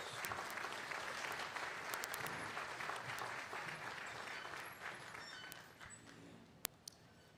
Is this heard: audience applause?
yes